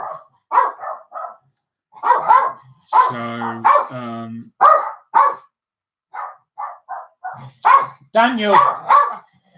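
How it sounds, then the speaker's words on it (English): Dogs barking in several short bursts, some sharp and some yelping, mixed with someone talking nearby between and over the barks. "And on cue, there's the dogs."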